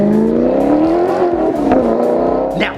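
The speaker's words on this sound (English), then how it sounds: "beautiful exhaust note, you are gonna be turning heads when you sound like this." A Maserati GranTurismo's exhaust roars loudly and close, a deep continuous note that wavers in pitch as the engine is revved, with a brief rising whine near the end.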